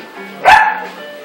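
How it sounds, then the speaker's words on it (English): A dog lets out one sharp, loud bark close by, with a short tail trailing off in an otherwise quiet room. "Where are you barking at?"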